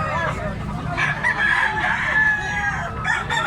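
A young stag rooster crows nearby at a gamefowl sale in Tabunok, Cebu. The crow is loud and drawn out, with clucking and chatter from the crowd mixed in around it.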